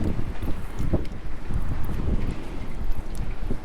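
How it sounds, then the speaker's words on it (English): Strong wind buffets the microphone in a continuous low rumbling roar, loud and close throughout, during a long walk across Japan near Hamada in Shimane. "this wind has been so stupid all day"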